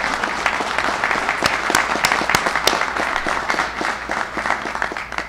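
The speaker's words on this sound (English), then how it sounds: "Let's give him a big round of applause." An audience at a storm briefing in Suffolk County applauds the county executive, a full, dense burst of clapping from a crowd, loud and sustained before gradually thinning.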